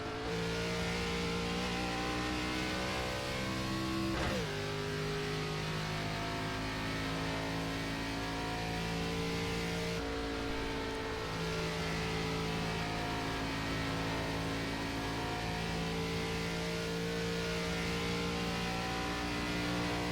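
An ARCA stock car engine in iRacing drones loudly and continuously at high revs, with sharp pitch drops at gear shifts and steady sustained throttle between them.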